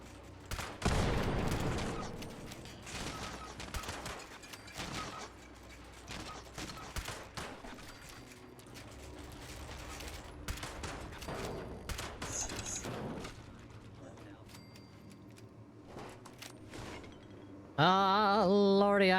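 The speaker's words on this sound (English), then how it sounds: "I love shooting things with the lever action rifle" Lever-action rifle shots ring out in Fallout 76, a series of sharp, spaced cracks with quieter impacts between them, then a burst of bright game tones near the end.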